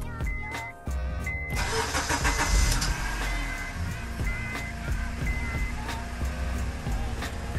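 Honda Accord with a K24 engine starting after a knock sensor and ABS sensor repair: a brief starter crank, then the engine catches and settles into a steady close idle with faint clicks.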